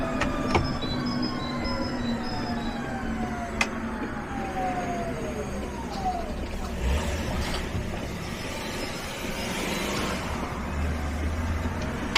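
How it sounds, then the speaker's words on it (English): A MAN eTGX electric truck's whine glides down in pitch as its automated gearbox shifts, with a sharp click mid-way over steady rolling road noise. "Now you can hear the automated gearbox in action."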